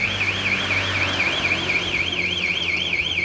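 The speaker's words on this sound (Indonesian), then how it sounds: "di Bank Mandiri ada bunyi alarm." A loud electronic alarm at a Bank Mandiri building in Gorontalo wails continuously, its pitch sweeping rapidly up and down in an even warbling pattern, with faint background rumble.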